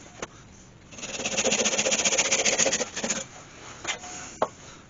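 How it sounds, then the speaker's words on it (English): Bandsaw slicing the top off a turned oak scoop, a steady buzzing cut lasting about two seconds at close range, then a few short knocks and clatters once the blade clears the wood. "take that over onto the bandsaw and cut that top off"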